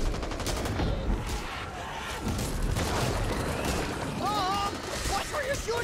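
Gunfire in the zombie shooter Back 4 Blood rattles in continuous bursts of overlapping shots, loud and close, with game voices and a rising electronic tone mixed in.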